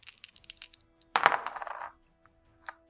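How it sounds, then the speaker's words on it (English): Two dice rattle and clatter across a table during a Dark Souls board game, a burst of hard clicking tumbles lasting under a second, preceded by light taps and followed by a faint settle. "as we are rolling 2 dice and trying to get 1 dodge symbol"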